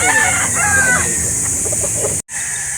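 Chickens cluck and crow at a busy poultry market in Calauan, Laguna, loud and close over steady background noise, with a brief dropout near the end.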